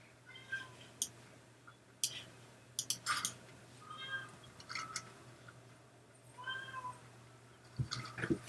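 A house cat meows repeatedly and close by, short separate cries spaced irregularly over a quiet room with a low steady hum, with a few sharp clicks near the end.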